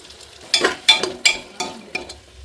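Chopped onion, shallots and green chillies sauté in a pan, with repeated scraping stirs giving bursts of gentle sizzle roughly every third of a second, close and clear with no talking.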